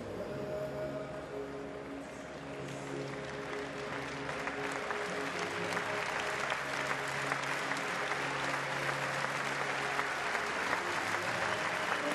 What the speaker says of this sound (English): So taking the cheers of the crowd.